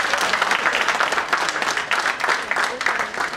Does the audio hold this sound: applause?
yes